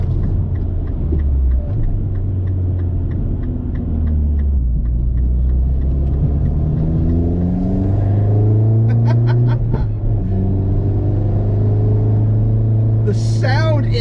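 A 2013 MINI John Cooper Works GP engine drones steadily while driving, its tone rising and falling through gear changes and corners. It stays loud and close throughout, with a faint voice underneath.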